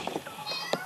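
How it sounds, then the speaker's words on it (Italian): A moving toy kitten gives a few short, faint electronic meows and rattling clicks, brief and quiet, with a voice nearby. "E qua abbiamo un gattino pazzo che si muove all'infinito."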